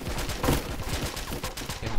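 An enemy in the shooter game BeGone empties a magazine in a rapid, continuous burst of automatic gunfire, loud and dense with sharp repeated cracks.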